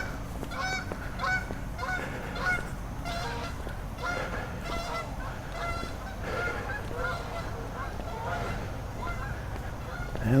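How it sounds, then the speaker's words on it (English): Ducks calling early in the morning, a steady run of repeated honking quacks from several birds close by, continuing for the whole stretch with no voices over them. "And the ducks are up early today too."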